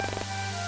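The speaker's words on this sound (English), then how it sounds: "Oh no, rain!" Rain falls in a video game, a brief, soft, steady hiss of drops over a low hum.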